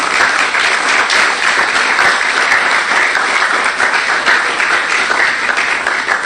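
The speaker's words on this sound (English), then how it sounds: "please join me in giving a special applause to Patricia Lionel for her role" Loud, sustained applause from an audience at a book launch honoring a contributor, a thick, even roar of many hands clapping nonstop with no pauses or speech.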